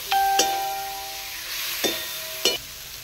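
Potatoes sautéing with salt in a pan give a steady sizzling hiss, broken by three sharp utensil knocks and scrapes against the pan.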